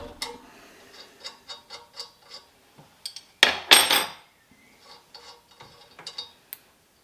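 A spanner works on the manifold stud nuts of a Ferguson TED20 tractor, giving a rhythmic series of close metallic ratchet clicks, then a louder burst of clanking and grinding, then more sparse clicks.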